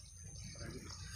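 River water flowing outdoors, a steady broadband rush close by and fairly quiet, continuous with no distinct splashes and no voices.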